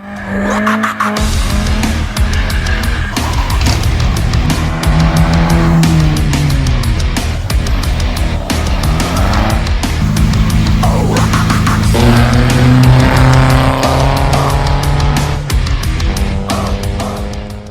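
A black 2023 Volkswagen Golf R MK8 with a six-speed manual gearbox is driven hard, its engine note loud and close, climbing and falling repeatedly through gear changes, with bursts of tire squeal.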